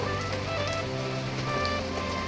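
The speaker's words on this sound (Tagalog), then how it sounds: "Sa ilaw, makikita ang malakas na ulan." Heavy typhoon rain in the Philippines pouring steadily, a dense continuous hiss of drops drumming on surfaces with a low hum in the background.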